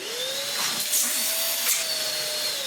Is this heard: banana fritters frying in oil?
no